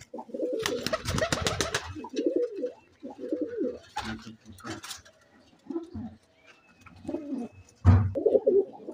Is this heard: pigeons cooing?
yes